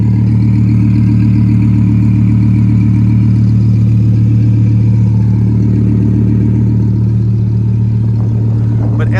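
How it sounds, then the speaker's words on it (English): Deep, steady engine rumble from the exhaust of a 610 hp Audi R8 V10 Plus recorded up close, loud and droning, with a slight rise near the end. "This car has a pretty loud exhaust"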